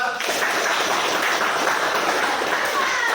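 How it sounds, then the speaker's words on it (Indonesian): A school class in a floor-gymnastics PE lesson claps for a student group, a dense, continuous patter of many small hands that stays steady and fairly loud throughout. "Beri tepuk tangan untuk kelompok 2"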